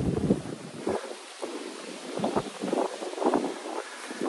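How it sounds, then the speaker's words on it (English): Gusty wind in Tenerife buffets the microphone in uneven bursts, a rough low rumble rising and falling throughout with no voices. "Again, it's very windy"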